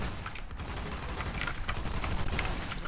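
Dense, continuous gunfire from a first-person shooter video game, with rapid overlapping shots and mechanical clatter filling the whole stretch at a steady loud level.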